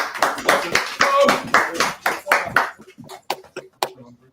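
Audience clapping at a religious teaching gathering: about ten sharp, separate claps in loose rhythm that thin out and fade toward the end, fairly close, with some voices in the background.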